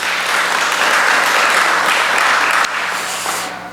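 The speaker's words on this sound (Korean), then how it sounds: "하나님께 우리 영광의 박수 올리겠습니다" Sustained applause from a congregation in a Korean church service, a dense even clatter of many hands that holds steady and then tapers slightly toward the end, with no talk over it.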